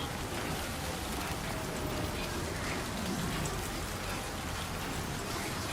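Steady rain falling in the Death Stranding 2 video game, an even, unbroken hiss of drops, faint and constant throughout with no talk.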